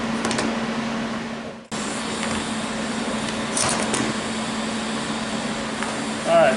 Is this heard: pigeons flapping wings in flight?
no